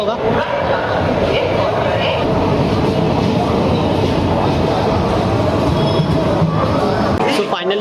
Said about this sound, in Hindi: तो ये हमारी ट्रेन जाती हुई वापस, बाय बाय।